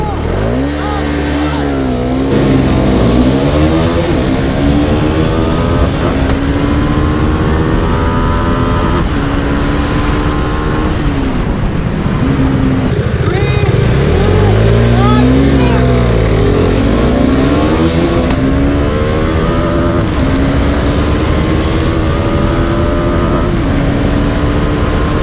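A 2019 Bajaj Dominar 400 and a 2013 KTM Duke 390 drag race, engines roaring loud and close through repeated rising gear-by-gear revs and shifts, with wind rush and talk mixed in.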